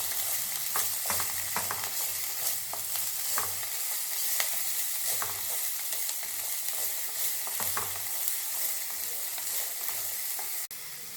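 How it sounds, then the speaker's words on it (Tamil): Capsicum and carrot sautéing in a pan for white sauce pasta, a steady loud sizzle broken by repeated scraping stirs of a utensil, close up with no voices. "இப்போ கேப்சிகம், கேரட் மூணையும் நல்லா வதக்க போகிறோம்."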